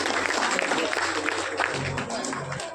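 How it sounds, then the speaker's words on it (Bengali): Applause from an audience at a mass wedding ceremony, a steady dense patter of clapping lasting a few seconds, with some talk and crowd noise mixed in underneath. "জোরে করতালি হোক।"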